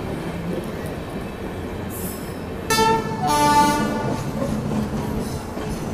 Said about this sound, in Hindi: फाइनली यहाँ 7:30 पे हमारी ट्रेन पहुँच रही है सिकंदराबाद रेलवे स्टेशन